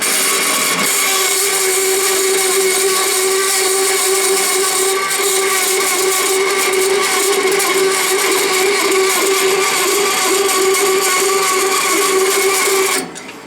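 A Sears saw fitted with a slow-speed converter cuts through 1/8 inch mild steel, chattering hard with a loud, steady grinding rasp and ringing harmonics that run almost thirteen seconds before stopping abruptly.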